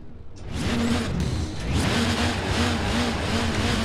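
Mazda RX7 in Forza Horizon 4, swapped to a 1.6 engine, revs steadily with a continuous buzzing engine note and slight pitch swells, loud and close throughout the short run.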